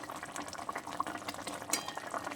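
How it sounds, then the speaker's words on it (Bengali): Pabda fish curry gravy bubbling in a pan, a soft continuous simmer with small pops and occasional spoon clinks, close and moderately quiet with no voices. "ফুটছে দেখতেই পাচ্ছ।"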